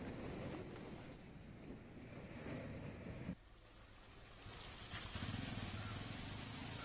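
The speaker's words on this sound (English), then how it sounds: "There you can see the heavy rainfall and wind that has already been brought ahead of the cyclone making landfall" Heavy rain and gusting wind ahead of Cyclone Nivar make a steady loud roar that dips briefly, then surges back stronger.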